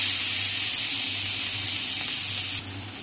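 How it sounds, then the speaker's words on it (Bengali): Prawns marinated in salt and turmeric fry in hot oil in a pan, giving a loud steady sizzle and hiss that eases slightly near the end, with no voices. "এবার আমি লবণ হলুদ মাখিয়ে রাখা চিংড়ি মাছগুলো ভেজে নেব।"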